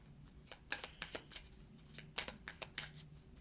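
Fortune-telling cards are shuffled and drawn by hand, a quick run of soft riffling flicks and snaps, close and quiet, with no talk.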